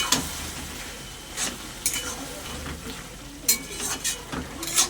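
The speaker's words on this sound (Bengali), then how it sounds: "ভালো করে নাড়াচাড়া করে নেব।" A banana flower and prawn curry with a little sugar is stirred in a frying pan, the steady sizzle broken by repeated scrapes and clinks of a spatula against the metal, close up.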